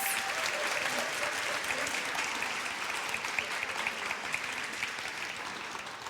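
An audience at The Beauty Beat 2022 event gives its speakers a long, even round of clapping that stays moderately distant and steady throughout, with no single voice standing out.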